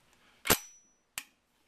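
Lever action of a Winchester Model 1873 rifle being opened, heard as two sharp, close metallic clacks about half a second apart in an otherwise quiet room.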